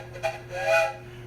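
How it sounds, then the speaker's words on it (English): A short train whistle toots once, a brief breathy blast rising and fading over about a second, with a steady hum behind it. "Now the train whistle"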